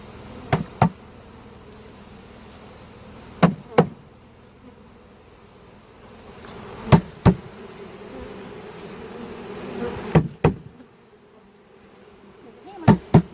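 Honeybees are poured from a package into a hive, making a low, steady buzzing hum punctuated by pairs of sharp wooden knocks at intervals.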